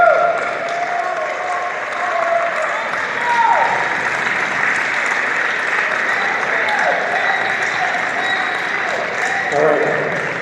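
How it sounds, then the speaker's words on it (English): A town hall audience in Newport, Lincoln County, applauds Senator Jeff Merkley and his staff, steady sustained clapping from a sizable crowd that rises and swells near the end, with voices mixed in. "A round of applause for Senator Merkley and his staff."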